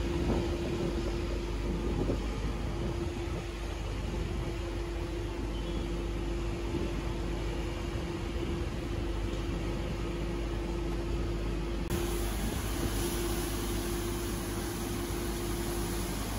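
Asphalt road paving machine running steadily with a constant engine drone and broadband rumble, unbroken and fairly loud throughout, with a slight shift in tone near the end.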